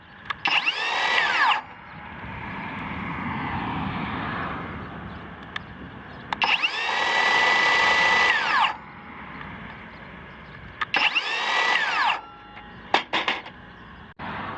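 A cordless power drill is triggered in short bursts, each starting with a rising whine that holds steady at high speed and then cuts off. Three runs are separated by quieter gaps with faint clicks and handling noise.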